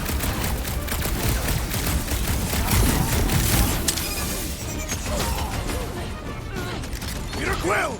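Smart bombs exploding in a Guardians of the Galaxy battle, dense loud crackling blasts and rumbling booms in quick succession, with mechanical clatter and a voice shouting near the end.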